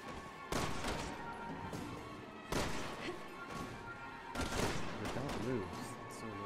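Gunshots ring out in Resident Evil 6, several loud bursts spaced a couple of seconds apart over steady game noise, with a voice talking over the action.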